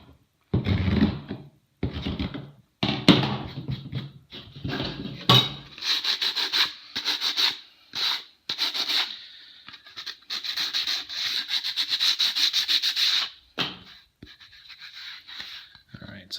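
A screwdriver scrapes and gouges a wooden board to distress it into faux barnwood, in close, rough bursts of scratching separated by brief pauses, some strokes long and grinding.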